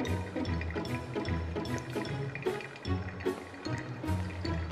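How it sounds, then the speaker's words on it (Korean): Hot water poured in a steady stream over coffee grounds in a Kalita dripper for a dark-roast hand-drip brew: a continuous close splashing trickle with small bubbling drips, no voices. "80g의 물을 가운데 부어줍니다"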